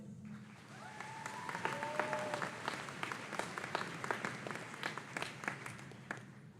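An audience at a high school commencement ceremony claps for honored graduates, giving steady, sustained applause with sharp individual claps standing out, a few faint whistles, and murmuring under it.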